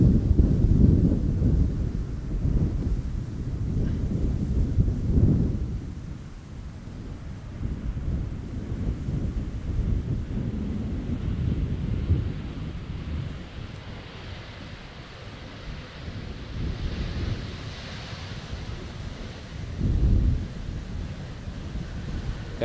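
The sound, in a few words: strong wind at Amsterdam Schiphol Airport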